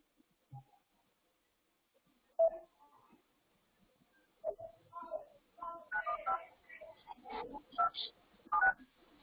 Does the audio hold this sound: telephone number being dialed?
yes